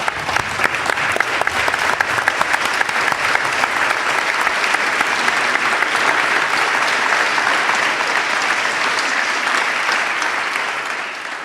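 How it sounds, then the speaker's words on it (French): Standing audience at a professional congress applauding warmly, a loud, dense and sustained clapping that lasts over ten seconds with only a slight fade near the end. "peut-être on peut tous se lever et l'applaudir pour le féliciter"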